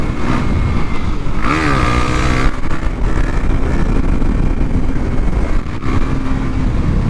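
KTM Duke 390 single-cylinder motorcycle with a 56-tooth rear sprocket, pulling hard in fifth gear up a slight hill during a wheelie attempt; a loud, steady engine drone with rising pitch mixed with wind rush, close to the rider.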